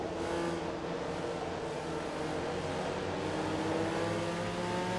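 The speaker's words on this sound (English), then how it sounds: "These Supras have weird sounding engines." Toyota Supra engines roar steadily in Forza Motorsport 2 during a GT Championship of Japan race, several cars droning together with rising and falling harmonic pitches, loud and continuous throughout.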